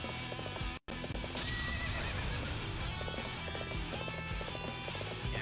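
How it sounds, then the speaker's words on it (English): Horse galloping in Dynasty Warriors 7, with steady clip-clop hoofbeats and whinnies over battle noise and game music, loud and continuous apart from a brief dropout near the start. "So this would be a time where a horse would be necessary"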